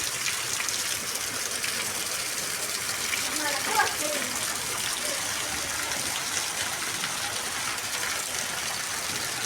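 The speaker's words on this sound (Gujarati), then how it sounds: "અત્યારે ફૂલ વરસાદ આવી રહ્યો છે." Heavy rain pours down in a dense, unbroken hiss that holds steady throughout, with a faint voice briefly rising above it.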